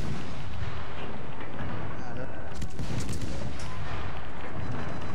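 Heavy naval gunfire aimed at a destroyer in a warship video game, heard as a dense, continuous roar of booming shots and rumbling blasts that fills the whole moment.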